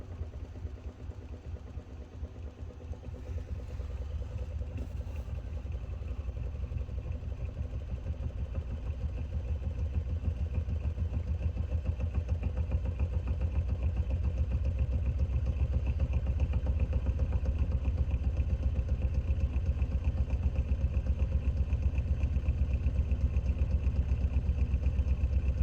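A magnet ramp pulse motor runs continuously with a steady low hum and fine rapid pulsing clatter, close and unchanging, gradually growing slightly louder, with no talk.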